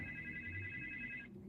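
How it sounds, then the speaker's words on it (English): A mobile phone rings with an incoming call, a repeating electronic ringtone heard fairly clearly indoors before it stops abruptly. "Maybe I'm getting a phone call from."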